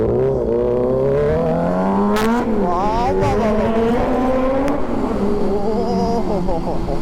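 Kawasaki Z900 motorcycle fitted with an Arrow full exhaust system, revving loudly and close by, its pitch climbing and falling through several throttle blips, with people talking over it.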